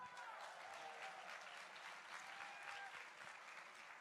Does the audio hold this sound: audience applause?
yes